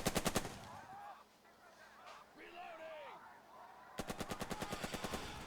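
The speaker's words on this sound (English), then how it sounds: "So I got 1 extra shot with this MG" Machine gun fire in the video game Burden of Command: a rapid, evenly spaced burst of shots opens, and a longer rattling burst returns at the end, with a person talking in between.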